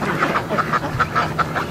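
Ducks quack in a quick, rhythmic series of short, nasal calls, close by and fairly loud, with about eight quacks packed into under two seconds.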